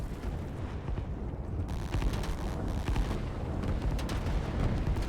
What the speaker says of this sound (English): The amount of fire and explosions that's been going on there.